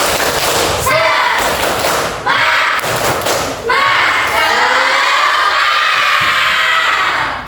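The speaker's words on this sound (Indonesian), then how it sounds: "Tepuk semangat." A group performs a rhythmic spirit clap in a classroom-style session, loud patterned bursts of clapping and thumps with shouting voices, pausing briefly between phrases.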